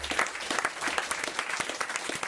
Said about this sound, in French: et on vous en remercie et on vous applaudit, Monsieur Croison.